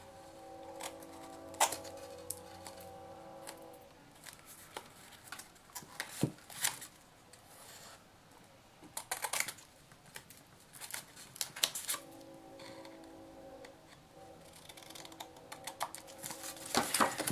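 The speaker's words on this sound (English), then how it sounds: "I'm just going to go ahead and cut these little corners to make my life easier." Scissors snip small corners off paper pages for a handmade mini album, giving sharp, scattered cutting clicks and rustles, close and fairly quiet, in uneven bursts with pauses between them.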